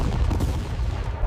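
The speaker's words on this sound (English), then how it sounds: "Mehmed's artillery opened fire from multiple positions" Cannon artillery fire from the 1453 siege of Constantinople, a dense rumbling barrage of booms blending into one continuous low roar, loud and without voices.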